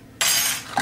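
A spoon clinks against a bowl once while lemon icing is mixed during muffin baking, a short bright ring that fades, followed by a softer second tap.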